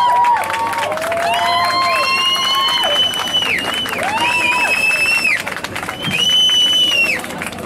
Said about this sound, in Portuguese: eu peço uma salva de palmas para esse mito, Jean Carreira.